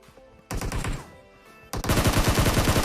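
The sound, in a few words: M4 rifle gunfire in PUBG video game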